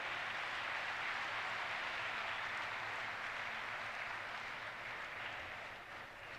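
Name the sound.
audience applause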